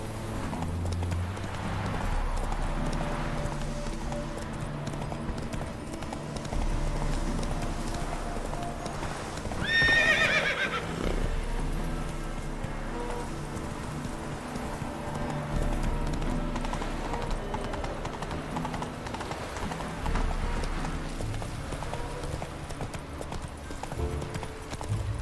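A horse gallops with steady rhythmic hoofbeats and snorts in Witcher 3, mixed with continuous game music and ambience and a brief whinny partway through.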